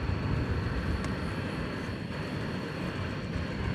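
Continuous low jet roar from an airplane taking off on the west side of DFW Airport at night, a steady, moderately loud rumble with no speech.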